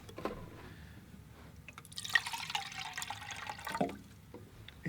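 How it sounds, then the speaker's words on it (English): Clean water is poured or run for a watercolor painting session, giving a soft, quiet trickle and splash that rises and falls for several seconds, up close in an otherwise calm room. "I'll maybe get some fresh water here."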